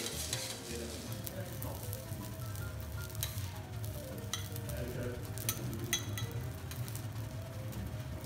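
Garlic rice with jako and shiso stir-fried without oil on a teppanyaki griddle, sizzling steadily with scraping spatula strokes and faint metallic clinks throughout, close and continuous.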